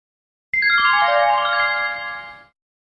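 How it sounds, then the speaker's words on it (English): A single electronic telephone ring tone sounds clearly for about two seconds, a bright chiming burst against silence, then fades out, as on a payphone call. "Your number's ringing now."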